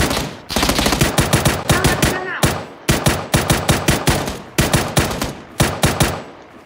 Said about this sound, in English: Okay, somebody shooting at us.